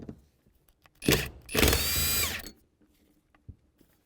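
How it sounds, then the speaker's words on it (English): A 14mm socket on a power driver backs out a bolt under a plastic cover on a 2007-2013 Acura MDX, heard as two bursts of whirring, the second about a second long, with faint clicks and handling noises around them. "Take our 14mm socket, just back that bolt out."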